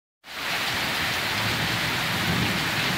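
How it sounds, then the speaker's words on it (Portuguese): A heavy, unrelenting downpour on a farm starts abruptly and continues as a loud, constant rushing hiss with a low rumble beneath. "43 minutos de chuva e não branda um segundo sequer. Temporal de verdade, viu?"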